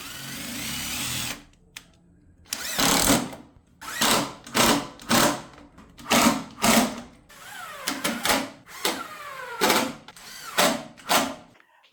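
A drill drives screws into a wooden jig for a miter saw bench with a rebate, the motor whirring in a string of short, loud bursts separated by brief pauses.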